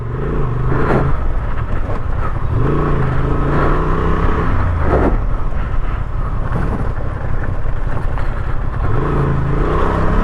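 A stock Honda Transalp 750 motorcycle on ATV trails roars and surges with throaty intake growl, rising and falling as it revs, mixed with heavy wind buffeting.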